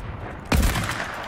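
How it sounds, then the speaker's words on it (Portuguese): Gunfire in an online shooter video game: a single sharp, loud blast about halfway through, with a short decaying tail that is heard alone with no talk. "eu ouvi tiro"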